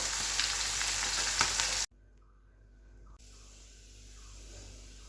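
Crushed garlic sizzles loudly in hot oil in a wok, a dense frying hiss for almost two seconds that then cuts to a faint quiet background.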